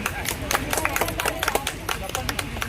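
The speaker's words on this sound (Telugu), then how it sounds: "చప్పట్లు" A crowd of walkers' association members claps at an Independence Day flag hoisting on the NSP ground, a dense burst of applause close by, with voices mixed in.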